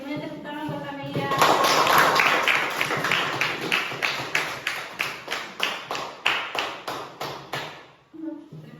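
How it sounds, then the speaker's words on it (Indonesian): A classroom group claps for a student named Amelia, starting as a blended burst of applause and then settling into loud, rhythmic unison claps that slow toward the end, with some voices at the start. "semuanya tepuk tangan buat Amelia"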